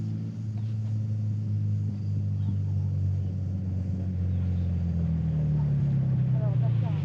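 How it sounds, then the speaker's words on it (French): A car approaches along a road with a steady low engine drone whose pitch slowly shifts as it draws nearer. Voices talk over the engine. "un bruit, un bruit. Une voiture."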